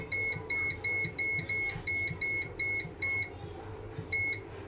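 An air fryer set for 180 degrees and ten minutes while cooking tandoori chicken gives a steady run of about ten short electronic beeps at an even rhythm, clear and close, with no talk.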